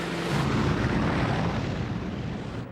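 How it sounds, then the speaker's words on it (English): American warplanes fly over a Pacific island during a massive WWII aerial bombardment: a loud, continuous engine roar that swells slightly and holds steady, with no voices. "Wave after wave of American aircraft paved the way with a massive aerial bombardment."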